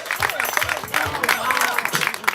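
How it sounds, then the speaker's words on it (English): A crowd applauds and cheers for the performer Amina, dense clapping and scattered shouts rising and falling over a couple of seconds, with voices calling out among the clapping. "clap it up for Amina"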